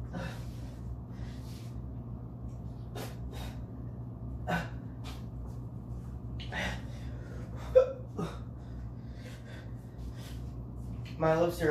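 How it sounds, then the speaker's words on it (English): Sharp, irregular hiccups and gasping breaths from someone who has just eaten an extremely hot pepper, scattered across a quiet room with a steady low hum underneath and a short burst of breathy noise near the end. "I got the hiccups."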